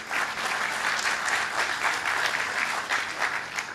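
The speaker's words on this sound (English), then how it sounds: "Let's give Jay a round of applause" A crowd at a groundbreaking event applauds steadily, a thick, continuous patter of many hands clapping at an even loudness from start to finish.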